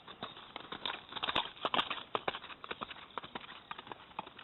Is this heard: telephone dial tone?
no